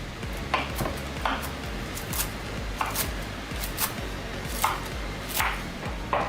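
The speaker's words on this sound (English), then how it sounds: "we'll empty out some of the spinach onto the cutting board and start to roughly chop" A knife roughly chops fresh spinach on a cutting board, a steady series of close, sharp chopping taps in irregular bursts, with no talking.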